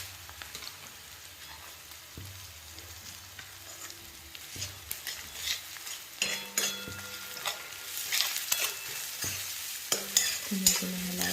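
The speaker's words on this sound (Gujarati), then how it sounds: "ધીમે ધીમે હલાવતા જઈશું અને એડ કરતા જઈશું બધું જ મિક્સ." Dabeli masala and onions frying in a pan on a high flame, with a steady sizzle and repeated scraping stirs of a spoon against the pan that grow busier and louder.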